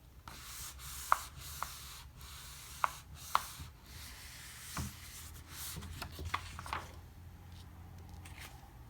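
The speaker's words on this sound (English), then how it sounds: "I'm going to hold with one side and rub with the other" Paper being rubbed by hand against canvas, a soft faint scratchy friction with a few small ticks and taps, quiet and close with no voices.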